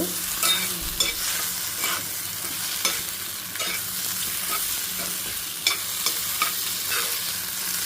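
Hot oil tempering for coconut raw mango chutney sizzles steadily in a pan while a spoon stirs and scrapes at intervals, a crackling frying hiss with no voices.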